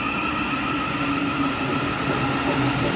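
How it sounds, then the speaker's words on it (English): A train pulls out of London Bridge on a service to Rainham, a steady close rumble with tonal hum and faint wheel noise running throughout at even loudness. "keep my attention on this train that's now departing"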